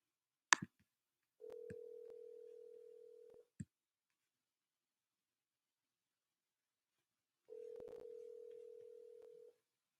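A telephone placing a call gives a steady electronic line tone in two long bursts about four seconds apart, with a couple of short clicks before the first and between them, in an otherwise quiet room.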